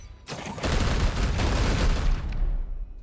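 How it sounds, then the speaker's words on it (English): A loud, close volley of gunfire from a squad in Warhammer 40,000: Chaos Gate - Daemonhunters, erupting as one dense roaring burst that holds steady for about two seconds and then tails off. "Opening fire!"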